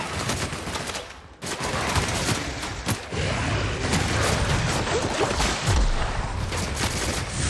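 Gunfire in a video game firefight in The Outer Worlds: dense, continuous bursts of shots and booms crowd the whole stretch, loud and close, with a brief lull just before the midpoint before the shooting resumes.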